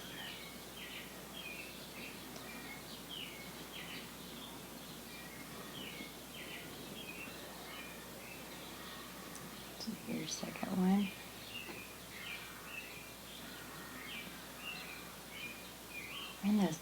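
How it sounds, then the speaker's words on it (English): Birds chirping and tweeting repeatedly in the background while someone speaks briefly and quietly up close. "And those birds are chirping loud."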